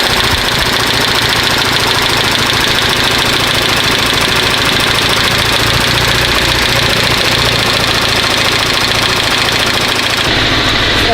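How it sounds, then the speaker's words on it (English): A new but faulty Volkswagen Golf 7.5 TCR engine idling up close with a rapid, regular bearing knock tapping through its running noise, loud and continuous until it drops off at the end. "it sounds like it's got a bearing knock"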